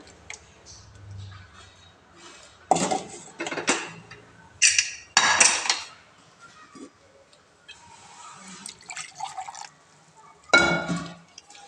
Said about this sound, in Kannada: ಅದೇ ನೀರು ನಮ್ಗೆ ಎಷ್ಟು ಬೇಕೋ ಅಷ್ಟು ಹಾಕ್ಕೊಳ್ತಾ ಇದ್ದೀನಿ